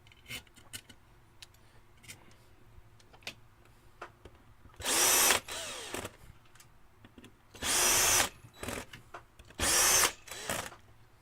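An electric drill whirs in three short bursts of a second or so each during airsoft gun work, separated by quiet pauses with light tool clatter.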